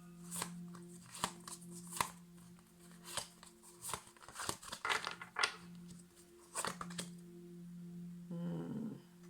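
Tarot cards are shuffled and handled in a quiet room, with crisp riffles and soft slaps in irregular bursts, close and fairly faint over a steady low hum.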